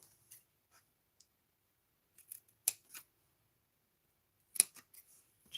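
Scissors snip through taped paper while a wedge is cut from a coffin-shaped gift box base, giving a few sharp, close cuts in scattered bursts with quiet pauses between them.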